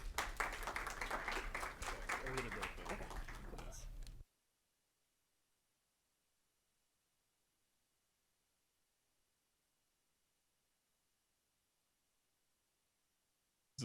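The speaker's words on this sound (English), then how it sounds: "So let's go ahead and give them a round of applause." Applause at a Purdue student senate meeting, a short burst of clapping from the room lasting about four seconds before it cuts off abruptly into near silence.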